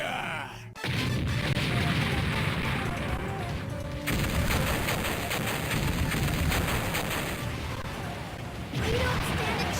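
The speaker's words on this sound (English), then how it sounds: "All port cannons, prepare to fire!" Dense, continuous rumbling barrage of ship cannon fire and explosions in the video game Mega Man Legends, loud and sustained, with voices shouting underneath the roar.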